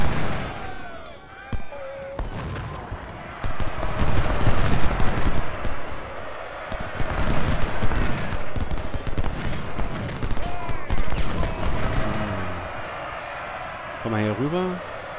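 Cannon artillery fire in the Ultimate General: Civil War battle game booms in a dense, continuous barrage of blasts and rumbles, while someone talks over much of the fighting.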